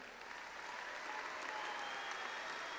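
Graduation audience at a spring commencement ceremony giving a steady round of applause for graduates, dense and even throughout, with no talk over it.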